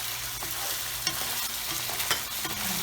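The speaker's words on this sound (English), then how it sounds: "Alright, stir this up." Chicken jalfrezi frying in a pan with serrano chili, garlic and ginger, stirred with a steady scraping sizzle and a few sharper utensil knocks against the pan, close and continuous.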